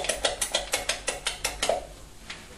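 Mechanical clicking from lowering the lever of an electrical panel breaker, a quick run of about nine evenly spaced ratcheting clicks followed by a couple of fainter ones, close and fairly loud.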